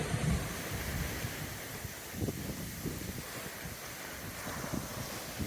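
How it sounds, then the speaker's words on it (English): Steady wind buffets the microphone outdoors near the water at Marquette on a grey day, with waves washing beneath it and a passing ship on the lake, forming a constant, fairly loud rush with no voices. "Yep, that's a ship."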